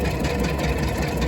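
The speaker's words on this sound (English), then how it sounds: "I don't like to get off of a tractor when the PTO is running" A farm tractor runs hard with its PTO engaged, a dense, loud and steady mechanical roar with knocking engine rumble and rattling driveline noise filling the whole moment, no voices.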